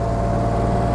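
A 1939 BMW 327/28 Sport-Kabriolett's six-cylinder engine runs at a steady idle, with a loud close drone and a low, even rumble that holds without a break.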